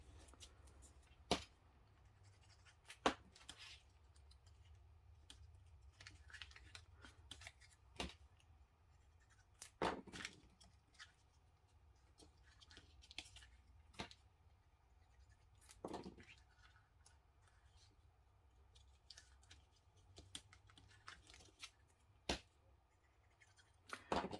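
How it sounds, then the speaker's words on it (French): Faint, scattered snips of scissors cutting paper, with irregular pauses between the quiet cuts. "Au dos, on va recouper une feuille de papier blanc."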